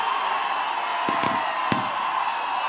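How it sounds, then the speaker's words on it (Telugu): Dense crowd noise at the Khaidi No 150 pre-release event, a steady roar of cheering and whistling with a few sharp claps or thuds standing out near the middle, loud and continuous throughout. "ఈ ఈలలు, చప్పట్లు,"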